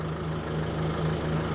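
A diesel car engine idling with its exhaust connected up during DPF cleaning, a steady low hum with an even, rapid pulsing throb, close and unbroken.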